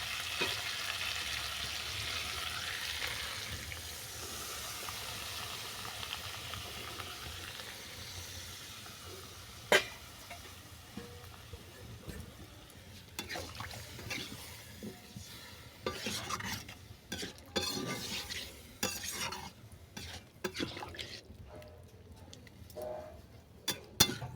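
Vegetable stalk curry frying in a pan, a soft continuous sizzle broken by scraping stirs and sharp clinks of a spatula against metal, growing busier toward the end, with no talking.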